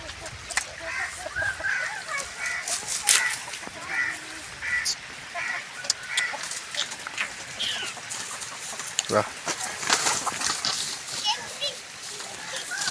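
Chickens cluck and call around a yard where a peacock wanders among them, scattered bird sounds mixed with splashy noises, all under steady talking.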